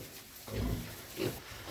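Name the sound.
piglets grunting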